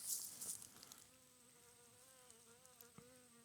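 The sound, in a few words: good news bee buzzing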